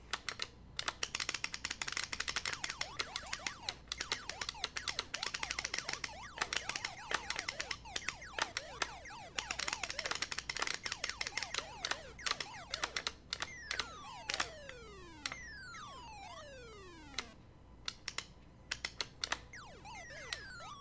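Busy electronic game sounds chirp and click rapidly in ColecoVision Galaga, then a series of descending and rising sweeping tones repeats as a ship is captured, quiet and steady throughout.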